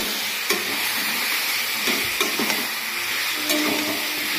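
Meat in raw oil sizzles in a pan as ground spices are stirred through it. There are a few sharp scraping knocks of the spoon over a constant frying hiss, close up and with no talking.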